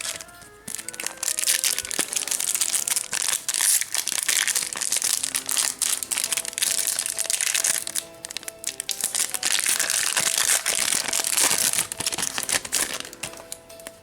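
Crinkly plastic wrappers of Yu-Gi-Oh! booster packs being torn open and handled up close, a steady run of crackling, crumpling foil noise with brief sharp tears throughout.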